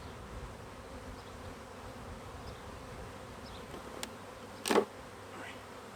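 A steady buzzing of many honeybees around an open hive during an inspection fills the air, continuous and close, with a brief louder burst as one passes near.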